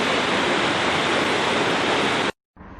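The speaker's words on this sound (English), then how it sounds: "waterfall" A waterfall in Georgia's Appalachian Mountains roars in a steady, broadband wash close by, then drops off abruptly near the end before a quieter rush returns.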